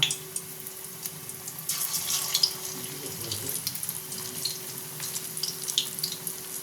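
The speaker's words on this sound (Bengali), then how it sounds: "দেখুন আমি এইভাবে অল্প অল্প দিয়ে ভেজে নেব।" Flattened rice and potato fritters fry in oil in small batches, giving a soft, steady sizzle with light bubbling and crackle at moderate distance.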